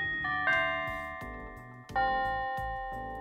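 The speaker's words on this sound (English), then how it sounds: "Like, sounds like small church bells." A chimiatron bell-tone keyboard voice plays a few struck notes that ring out like small church bells, each chime decaying slowly and overlapping the next, clear and close with no talk.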